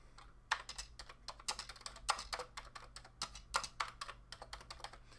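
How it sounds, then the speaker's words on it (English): Commodore 64 keys clack in a fast, uneven stream of typing, with the heavier thump of the space bar mixed in, close and crisp over a low hum. "something that's very distinct about the sound, besides the keys, is the sound of the space bar"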